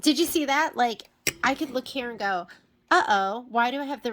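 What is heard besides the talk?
No everyday noise stands out behind the speech.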